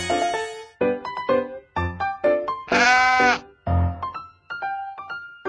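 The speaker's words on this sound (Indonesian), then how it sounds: "Kambing." A goat bleats in the animal-sound hearing test of a Baby Bus children's video game: one loud, wavering bleat rises in the middle, set among short, bright electronic game tones, with no talk.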